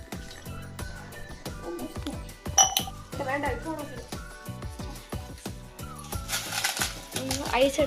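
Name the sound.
ice cubes being taken out for iced coffee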